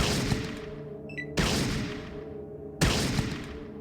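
Two loud, close gunshot blasts in the video game Fallout, each a sharp boom decaying into a long ringing tail over a low hum, with a brief electronic chirp just before the first.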